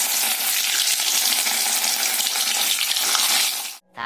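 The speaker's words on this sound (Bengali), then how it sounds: "তেলটা গরম হয়ে গেছে এবার আমি পনিরগুলো একে একে ছাড়িয়ে" Paneer pieces fry in hot oil with a dense, continuous close-up crackle and hiss that holds steady for about four seconds before a short break.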